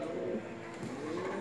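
A pigeon coos during mating, a soft, low throaty murmur close by, with no talk.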